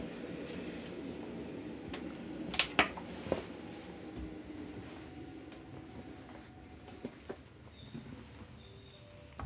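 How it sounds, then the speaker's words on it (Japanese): Another train passes a moving local train on a Japanese rail line, heard from inside the carriage as a rumbling rush with a few sharp clanks and squeals, fairly quiet under cabin noise. "なんか列車が通過しましたね"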